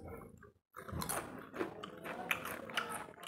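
Crunchy biting and chewing of chips eaten alongside mashed roasted eggplant, close and steady. Brief near-silence early on, then continuous crisp crunches with a few louder bites.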